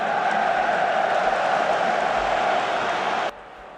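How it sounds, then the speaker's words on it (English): Football Manager 2023 plays a dense, steady roar of stadium crowd noise that holds at a constant level, then drops abruptly near the end as the volume is turned down. "I've just gone into the sound settings to turn the crowd noise down a bit."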